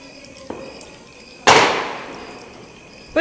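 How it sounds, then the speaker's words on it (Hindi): A firecracker goes off outdoors with one sharp, loud crack that rings out and decays over about a second, preceded by a smaller pop and followed by another burst at the end. "तो मेघा लेके गई हैं पटाखा का पैकेट, तो देखना कैसे भागेगी।"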